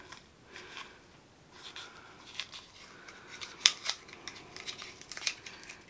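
Cardboard packaging for a MAC lipstick is torn and picked open close up, giving soft scratchy rustles with a few sharp clicks and snaps.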